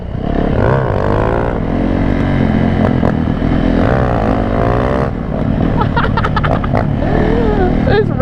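A 450 dirt bike engine revs hard and repeatedly during a wheelie attempt, close and loud, its pitch rising and falling with throttle blips, while people talk over it.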